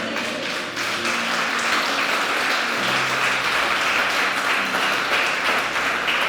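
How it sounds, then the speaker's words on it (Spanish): Loud, sustained applause from a large church congregation, dense clapping filling the whole stretch without a break. "Vamos a darle un aplauso ferviente"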